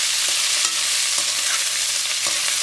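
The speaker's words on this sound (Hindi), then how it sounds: "मीडियम फ्लेम पर रखकर हमने इसको जो है यहाँ पर भिंडी को बेसिकली 3 से 4 मिनट के लिए फ्राई कर लेना है।" Okra frying on a medium flame in a pan hisses with a dense, steady sizzle, with a few soft stirring knocks spaced through it.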